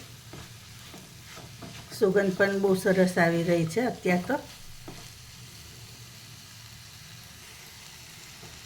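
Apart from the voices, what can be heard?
kankoda vegetable with gram flour sizzling in pan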